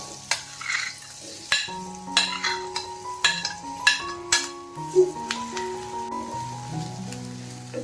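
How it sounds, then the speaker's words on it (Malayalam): Cut banana pieces dropped into hot ghee in a pan, with bursts of sizzling, stirring scrapes and clatters of a utensil against the pan, close and fairly loud. "ആ നെയ്യൊന്ന് ചൂടായി വന്നതിന് ശേഷം നമ്മൾ ഈ കട്ട് ചെയ്ത് വെച്ചിട്ടുള്ള ഈ പഴം മുഴുവനായിട്ടും നെയ്യിലേക്ക് ചേർത്ത് കൊടുക്കാം."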